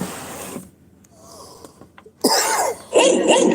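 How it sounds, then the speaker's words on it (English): Two loud, harsh coughing bursts close by, coming after a stretch of quiet with a few faint clicks. "I'm coughing now."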